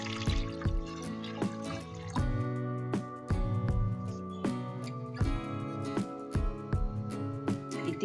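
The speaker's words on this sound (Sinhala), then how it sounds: "දැන් මම වතුර ටික දාගන්න තමයි හදන්නේ." Water goes into a pot of washed red rice set on the stove. It lands as a close, clear run of ringing drips and splashes at an uneven rhythm, with no talking.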